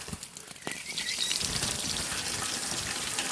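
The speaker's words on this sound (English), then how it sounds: "let's just pour some water on this." Water poured over the last few pieces of hot charcoal in a smokeless biochar burn, rising after a second into a steady hissing rush that carries on alone.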